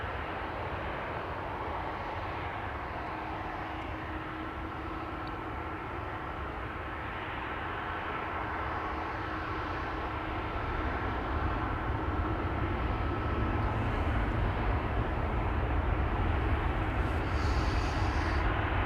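Air France jet departing Amsterdam Schiphol on a flight to Paris, a steady broadband engine roar that swells louder toward the end, heard alone without voices.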